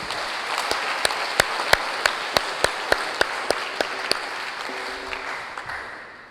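A church congregation at a Sunday mass claps in unison, about a dozen sharp, evenly spaced beats over a broad wash of scattered applause that gradually trails off.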